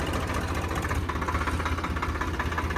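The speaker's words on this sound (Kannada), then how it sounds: "ಏನು ಎಕ್ಸಿಲೇಟರ್ ಕೇಳಲ್ಲ, ಐಡ್ಲಿಂಕಲ್ಲ ಗಾಡಿ ಆರಾಮಾಗಿ ಮೂವ್ ಆಗುತ್ತೆ." The Swaraj 735 XT 4WD tractor engine idles while the tractor moves, a steady, loud diesel rumble with a rapid rhythmic knock close by, alone with no talk.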